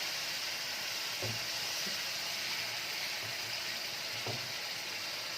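Alexandrian-style liver fries in a pan over high heat, giving off a steady, close hiss and sizzle with a few soft clinks from stirring. No one speaks.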